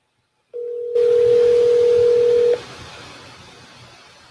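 A phone call being dialed on a live radio call-in show: a steady dial tone sounds for about two seconds over a low hiss, then cuts off, leaving quiet line noise.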